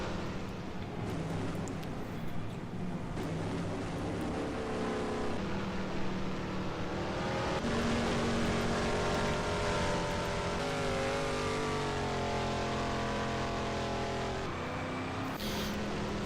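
Race cars circle a big oval track in the virtual world Second Life during a rookie endurance event, engines droning and rising in pitch with steady, layered tones, loud and continuous with no talk.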